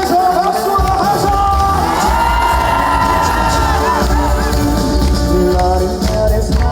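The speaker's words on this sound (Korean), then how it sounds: "마지막으로 온 힘을 내서 박수와 함성!" A large outdoor concert crowd in Goseong cheers, shouts and whoops at full volume, with children's shrieks rising from the steady roar for nearly seven seconds and no pause.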